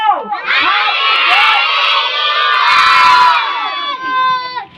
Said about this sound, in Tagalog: pag bilang ko tatlo, sisigaw lang kayo ng happy birthday